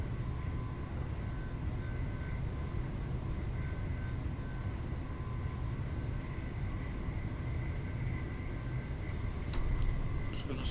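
Class 375 electric train in Train Simulator 2022 on the Faversham to Dover line, a steady low rumbling cab hum with faint tonal whine while slowing, no voices.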